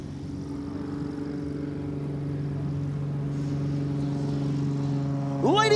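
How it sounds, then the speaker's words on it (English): Demon One biplane flown knife edge along the show line at an air show, a steady droning propeller engine with strong low harmonics throughout, ending in a rising pitch sweep as it passes close. "Kyle Franklin will bring Dracula knife edge down the show line."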